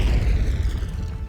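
Artillery explodes in the Wargame European Escalation video game, a deep rumbling boom that rolls out and fades over about a second.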